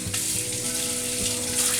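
A pound of ground beef fries with onions and butter in a pot for hot dog chili, giving a close, steady sizzle and crackle with a low hum and no speech.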